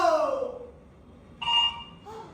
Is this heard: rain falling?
no